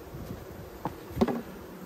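Honey bees buzz around hive boxes outdoors on a windy day, a faint steady drone with a couple of louder passes as individual bees fly close, no talking.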